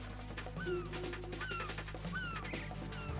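Seagulls crying in the Metal Gear Solid 2 video game, several short descending squawks recurring every second or so over a steady low game drone, moderately loud.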